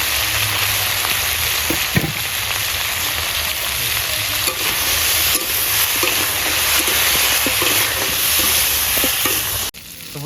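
Crab pieces frying in a pan with salt and turmeric give a loud, continuous close sizzle, with scraping stir strokes through it and a brief dip just before the end.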